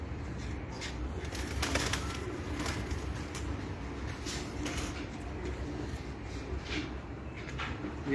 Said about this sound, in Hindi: ये मेरे रेड बुल कबूतर हैं